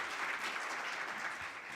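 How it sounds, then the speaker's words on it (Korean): Audience applause at a National Assembly policy forum in Korea as a legislator is welcomed; a steady wash of many hands clapping, moderately loud and continuous, with no speech over it. "박수."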